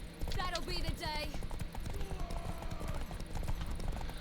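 A horse gallops in a race to a tower in The Witcher 3, its hooves drumming in a fast, steady rhythm throughout, with a short whinny and voices talking over it.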